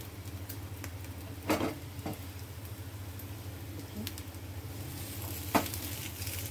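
Uttapam frying in refined oil on a pan, a soft steady sizzle throughout with a few brief scraping or tapping sounds, fairly quiet and close.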